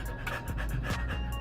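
A person pants hard after dancing, quick rhythmic breaths in and out, close and loud, with no words.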